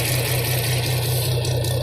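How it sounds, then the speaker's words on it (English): A Farmall tractor's diesel engine runs close by with a steady low rumble and vibrating drone, holding a constant pitch rather than climbing. "let's go up and see how she revs out"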